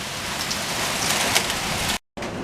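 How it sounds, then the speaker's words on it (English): Steady heavy rain and hail pelting a hard surface, a dense hiss with scattered sharper patters, loud and continuous before a brief cutoff. "it's hailing out there"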